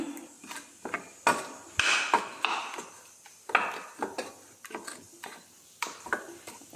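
Cooked food is smashed in a dish by hand, making a run of irregular, close clacks and scraping knocks of utensil against the dish, each sharp hit fading quickly, with no talking.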